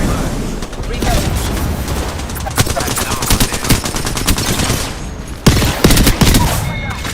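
Sustained automatic gunfire in the video game Apex Legends, loud and close, with dense rapid bursts, booming impacts and a short pause near the end before more shots, with game voice lines mixed in.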